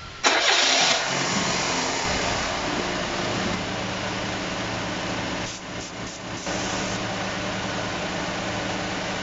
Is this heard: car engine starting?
yes